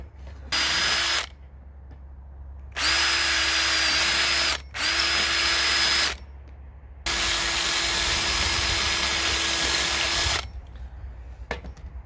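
A power drill whines in several bursts of a few seconds each, with short pauses between, close and steady-pitched as it bores out the old wooden handle inside an axe head.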